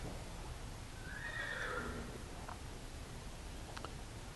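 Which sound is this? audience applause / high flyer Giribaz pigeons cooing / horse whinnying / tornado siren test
horse whinnying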